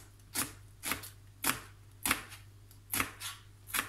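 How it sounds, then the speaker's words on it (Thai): A knife slices a peeled onion lengthwise on a cutting board, about eight crisp, evenly spaced chops in a steady rhythm, close and distinct with no talking. "หอมใหญ่ปอกเปลือกแล้วนะคะเราก็จะหั่นตาลยาว"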